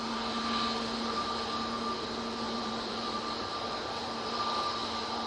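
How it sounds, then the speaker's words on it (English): A Ryanair Boeing 737 Max 8 takes off from Manchester toward Faro, a faint, steady engine drone with a sustained whine running through it, distant and even, with no voice. "And that's Ryanair Max 8 is off to Faro."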